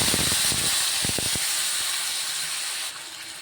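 Chopped tomatoes hit a hot pan of tempered oil with asafoetida for a ginger-tomato chutney, setting off a loud, steady sizzle and hiss, broken by a few clattering knocks early on, before settling slightly quieter.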